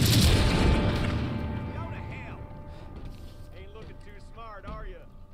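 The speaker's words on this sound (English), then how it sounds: "That's a dynamite barrel." Dynamite barrel detonating in Red Dead Online, a loud close boom at the start that decays over a few seconds, followed by faint scattered distant shots.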